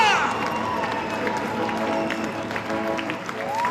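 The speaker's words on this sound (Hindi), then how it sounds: "बहुत सारी तालियां" A TV game show studio crowd claps and cheers steadily, with scattered voices and whoops mixed into the sustained applause.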